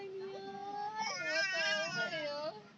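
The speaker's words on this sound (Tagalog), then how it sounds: "Ba't na umiiyak yung dalawa?" Two babies cry together in sustained, wavering wails with rising and falling pitch, fairly faint and steady for about three seconds, with adult talk in the background.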